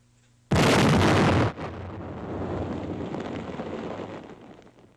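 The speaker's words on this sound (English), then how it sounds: "The pillbox is completely destroyed by the explosion." Five hundred pounds of TNT packed inside a German-built concrete pillbox detonate in one sharp, heavy blast, followed by a low rumble of debris that slowly fades, from a 1945 wartime newsreel.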